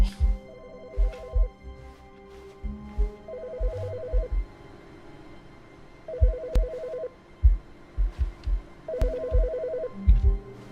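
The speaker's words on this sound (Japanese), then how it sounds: "電話が鳴ってる。" A telephone in The Stanley Parable rings in the game, sounding four repeated trilling bursts at even intervals, heard over intermittent low thumps and background ambience.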